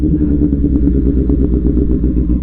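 A Honda CBR650R motorcycle idling nearby, a loud steady engine rumble with a rapid, even pulsing beat and light mechanical clatter, with no other sounds over it.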